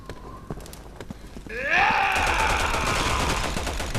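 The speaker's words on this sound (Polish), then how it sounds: "Oho, ho, snajperski strzał." A sniper rifle shot in the video game Resident Evil 6, a sudden loud burst that kicks off a sustained roaring, ringing wash of game effects lasting several seconds.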